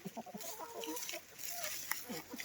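Free-ranging chickens out on green grass in a forest setting after several days of rain, clucking in short, uneven bursts from close by over quiet outdoor ambience, with no voices.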